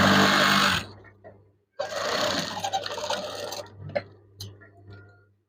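A sewing machine stitches a folded hem of curtain fabric for eyelets in a rapid whirring burst that stops. After a short pause a second longer run follows, ending in a few scattered clicks and taps.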